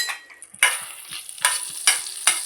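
Cinnamon stick, two cardamom pods and a bay leaf hit hot butter in a pan for paneer butter masala, a bright sizzle with short bursts of spoon scraping and stirring, close and without talk.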